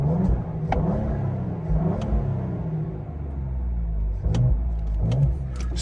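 A Ford Explorer ST fitted with a Whipple intercooler and MBRP exhaust, its engine revving in several short blips over a deep steady idle rumble, heard up close from inside with no talk.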